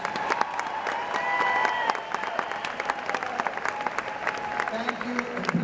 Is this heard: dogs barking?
no